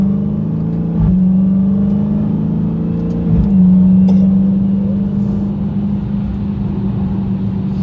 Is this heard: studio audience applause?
no